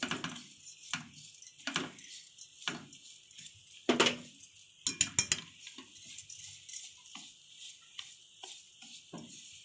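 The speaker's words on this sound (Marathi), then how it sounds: "असं सारखं असं हे परतत राहायचं आहे खोबरं" Grated coconut with sugar being sautéed in a kadhai for coconut burfi: a spatula gives scattered, fairly quiet scrapes and clinks against the pan, with a few sharper knocks.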